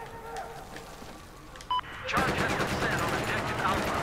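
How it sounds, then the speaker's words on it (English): Scar H rifle gunfire in a Battlefield 4 match on PS4, starting halfway through as a dense, sustained clatter of shots and battle noise after a quieter stretch with a brief electronic beep. "I'm using the Scar H right now"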